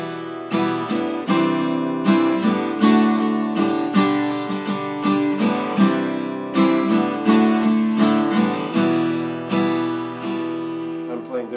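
Acoustic guitar strumming the chords of a song, a steady rhythmic pattern of bright full chords played close and alone.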